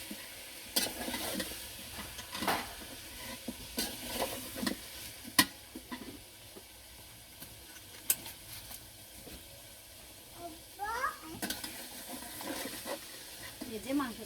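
Meat fries in a pan in a home kitchen and is stirred now and then, giving a faint, low sizzle with scraping taps while people talk nearby.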